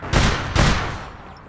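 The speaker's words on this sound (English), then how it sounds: "I'm getting shot at from it." Two sharp gunshots crack about half a second apart in the online shooter APB Reloaded, each one loud and close with a short decaying tail.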